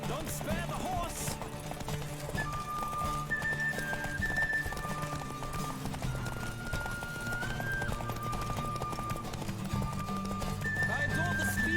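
A horse gallops in the video game Witcher 3 on Nintendo Switch, steady rapid hoofbeats under a game music score with sustained tones, continuous throughout at moderate loudness.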